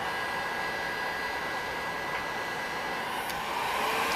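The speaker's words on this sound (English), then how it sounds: "Look, he's even got a heat gun." Heat gun blowing on heat shrink tubing during an amplifier build, a steady, loud rushing whoosh of air and fan noise held without a break.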